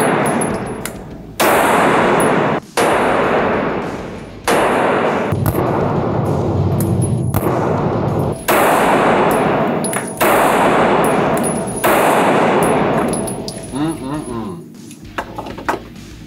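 A CZ full-frame pistol fired at an indoor shooting range, a series of loud sharp shots spaced a second or two apart with reverberant tails, alongside ringing and range noise.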